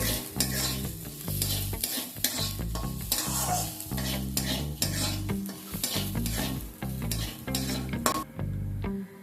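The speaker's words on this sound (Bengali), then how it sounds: "চালটা দেবার পর ততক্ষণ ভাজতে হবে যতক্ষণ না চালটা ভাজতে ভাজতে দেখবেন স্বচ্ছ হয়ে যাবে" Rice fries in a pan, a spoon or spatula scraping and stirring it in steady, repeated strokes over a continuous sizzle, close up, with no talking.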